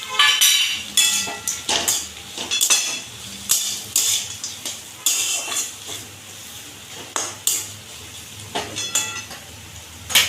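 Roasted peanuts go into a pan of filling, heard as a run of close, sharp clinks and scrapes of a utensil against the pan, with bursts of rattling and a faint sizzle between them.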